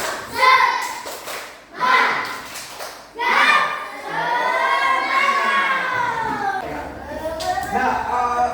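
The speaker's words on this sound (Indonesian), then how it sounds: "Tepuk semangat dulu." A group of students or participants claps out a rhythmic tepuk semangat cheer in short bursts, with children's voices chanting and calling along between and over the claps in a classroom setting.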